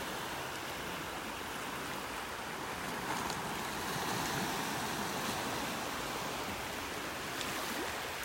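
Ocean waves wash steadily onto a foggy morning beach in North Naples, Florida, making a continuous broad roar of surf. Faint swells rise now and then, and there is no talking.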